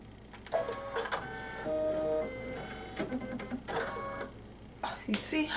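A Baby Lock Meridian embroidery sewing machine threads its own needle with a series of whirring motor runs, clicks and short mechanical buzzes, set against a quiet room tone.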